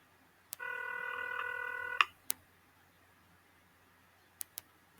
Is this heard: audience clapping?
no